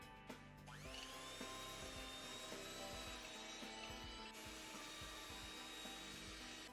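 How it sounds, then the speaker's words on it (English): Electric hand whisk creaming three tablespoons of softened butter in a large mixing bowl for gingerbread cookies, a steady continuous whirring and scraping drone that runs without pause throughout, close and fairly loud, with no talking. "Use electric whisk to cream this butter."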